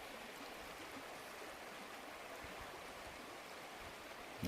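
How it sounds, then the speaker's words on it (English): A tubing river flows past in a steady, broad wash of running water, even and unbroken, moderately close, with no voices over it. "Well, that's just a good old tubing river right there."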